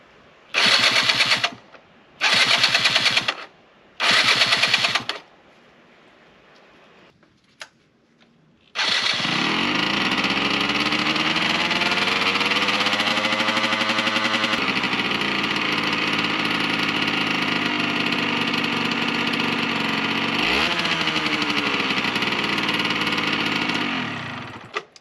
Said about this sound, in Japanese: これからじゃあエンジン始動チャレンジやっていきたいと思います